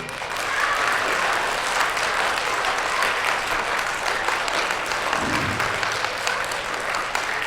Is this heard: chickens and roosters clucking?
no